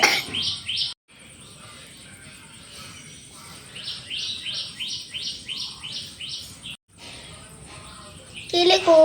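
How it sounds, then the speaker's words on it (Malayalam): Birds chirping outside a house where water has been set out for them: close, bright bursts of rapid tweets in repeated runs with short pauses, ending in a louder call. "കിളി കൂവുന്നുണ്ട്."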